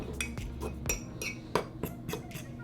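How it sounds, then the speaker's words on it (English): Almond flour is mixed into melted butter with vanilla and salt for a keto dessert. A utensil clinks and taps against a bowl about ten times in an uneven rhythm, close and fairly quiet, with no talk. "You're gonna add the almond flour to the butter with the vanilla and the salt, and then mix it up together"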